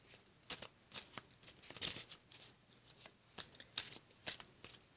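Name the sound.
shuffling tarot cards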